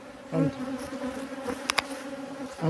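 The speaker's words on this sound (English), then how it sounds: "there's enough room for the bees to fly, go up and in through the hole" Honeybees buzz close by around a hive in a steady droning hum, with a few brief louder passes and clicks over the buzzing.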